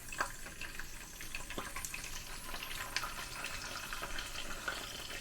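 Mackerel frying in a pan gives a steady, close crackling sizzle with scattered sharp pops and spatters throughout.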